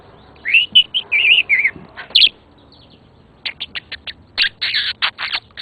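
A pet budgie chirps outdoors in short, bright bursts, first a run of quick tweets, then a pause, then a faster flurry of sharp, close chirps.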